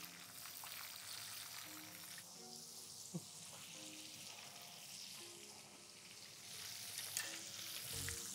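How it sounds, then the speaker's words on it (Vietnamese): Scad fish fry in hot oil in a pan. A steady, soft crackling sizzle goes on throughout, close and even, with a faint stir or pop now and then. "thả cá vào chúng ta chiên"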